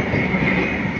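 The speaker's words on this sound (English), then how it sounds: "That's 50 tankers. Now the second train." A freight train of tanker wagons rolling past near the track, a loud continuous rumble and rattle of wagons with no clear gaps.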